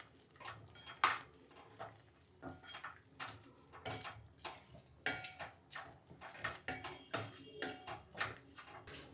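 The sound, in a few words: stirring ridge gourd and moong dal curry in a pan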